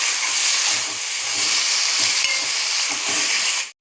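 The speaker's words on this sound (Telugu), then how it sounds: "టమాటాలు వేసి కొన్ని జీడిపప్పులు వేయాలి. జీడిపప్పులు వేసి కొంచెం కలుపుకుందాం." Onions, tomatoes and cashews are stirred in a hot pan, producing a loud, steady sizzle and hiss that runs unbroken for several seconds before stopping abruptly.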